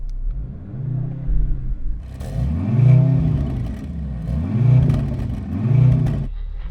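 A stationary performance car (AMG C63 S, BMW M3 or Audi RS4) is revved hard before a drag race: several rising and falling engine sweeps, loud and close, with a brief drop to idle between pulls.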